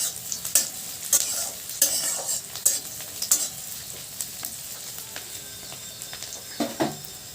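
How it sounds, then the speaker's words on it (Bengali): Close scrapes of a spoon stirring egg bhujia in a frying pan, irregular clinks over a soft continuous sizzle, with no voices. "একটু সময় দিতে হবে যাতে ভাজা ভাজা হয়।"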